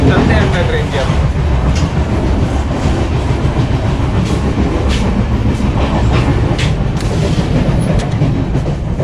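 Steady, loud rumble and rattle inside a moving Rajdhani Express train carriage in 2AC class, with continuous wheel and track noise and faint clicking throughout.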